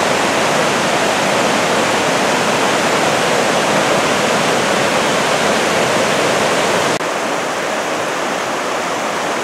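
Talapus Creek rushing hard during a mountain hike, a loud, dense, unbroken roar of whitewater close by with no talking.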